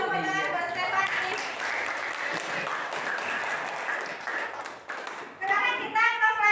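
Classroom applause for a student named Stefani: a sustained patter of clapping from a group of pupils, with children's voices mixed in and a teacher's voice rising near the end.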